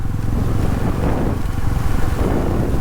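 A river rushes over stones outdoors, a loud, close, continuous broadband roar with slight surges and no voices.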